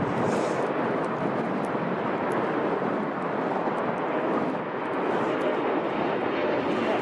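A Qatar Airways jet at Chicago O'Hare produces a steady, broad engine roar that holds at an even level throughout, with faint talk mixed in.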